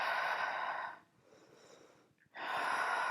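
Deep breathing during an exercise session: two long airy exhalations, each followed by a quieter inhale, with a short near-silent gap between them. It sounds close and steady, with no talking.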